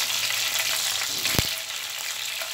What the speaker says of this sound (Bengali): গরম মশলাগুলোকে একটু ভেজে নিয়েছি।